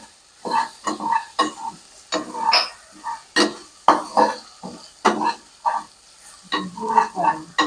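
Ginger garlic paste frying in a pan while being stirred for soya chunks pulao, with repeated scraping and sizzling bursts in a steady rhythm, close and moderately loud.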